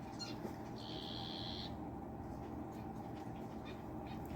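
A single thin, high-pitched buzzing call from a small bird lasting about a second, heard faintly over a steady low mechanical hum.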